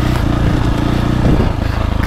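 A 2024.5 KTM 450 Factory Edition motocross bike on a dirt track, its engine a loud, close, rough droning roar that holds steady and then dips slightly as the throttle eases.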